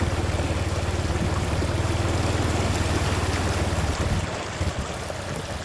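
Floodwater rushes across a road in Rasi Salai, Sisaket, as a steady broadband roar, with the low rhythmic putter of an idling Honda Wave motorcycle underneath that fades out near the end.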